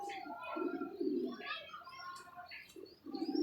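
Pigeons coo in low, soft repeated bursts, with a few higher chirps mixed in, close by and fairly steady throughout.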